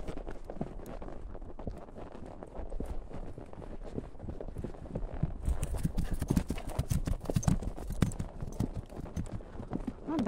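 Horse hooves clip-clop in a steady walking rhythm, close and fairly loud, from young horses being trained on a walk outdoors, with wind and a scuffle of movement growing busier partway through.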